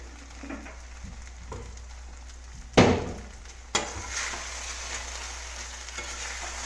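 Sabudana frying in a pan until transparent, a soft steady sizzle running underneath with a couple of sharp scraping knocks of the spatula against the pan partway through, no voices.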